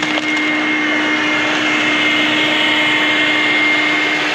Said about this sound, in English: We'll clean it with the vacuum.